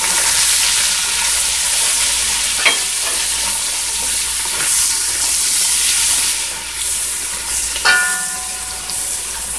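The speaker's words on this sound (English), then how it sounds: "as soon as the garlic starts to get nutty, you know, we're gonna add our onions in" Onions and garlic fry in a pan for Jamaican ackee and corned pork, producing a loud continuous sizzle with a few sharp stirring clinks, close and with no talking.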